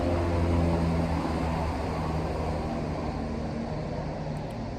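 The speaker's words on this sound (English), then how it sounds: "Helicopter going overhead." A low, steady rumble of a helicopter passing overhead, distant and continuous, slowly fading a little toward the end.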